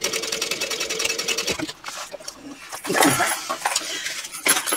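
A sewing machine bastes handbag fabric along a straight edge with an eighth-inch seam allowance, a fast, close mechanical whir that stops and starts again, with a few metallic clinks in the pauses.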